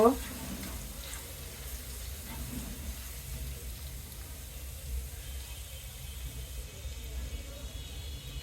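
Vegetables stir-frying for a Chinese-style vegetable dish, giving a steady low sizzle and some clatter from stirring in the pan throughout, with a voice talking over it.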